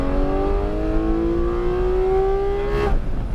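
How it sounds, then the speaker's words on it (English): A GT4-class race car, Ferrari 296 or Lamborghini Huracán, accelerates hard on the Sonoma track. The engine rises in one loud, steady climb from close inside the cockpit before it abruptly lifts off. "Now roll on the gas, accelerate."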